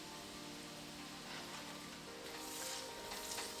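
White onion goes into hot bacon fat in a frying pan, giving a steady, close, hissing sizzle that swells slightly toward the end.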